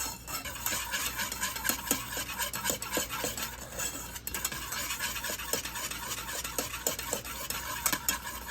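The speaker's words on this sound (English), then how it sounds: "you kind of have to stir it constantly because you don't want to scorch it" A spoon stirs scalded milk for hot cocoa in a pot, making a steady, close scraping and swishing with soft, regular clinks, no voices.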